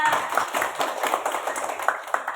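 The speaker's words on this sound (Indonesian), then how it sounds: "Tepuk tangan buat mereka berdua." Children in a classroom clap their hands in a dense, steady round of applause lasting a couple of seconds, fairly loud and close, with no talk over it.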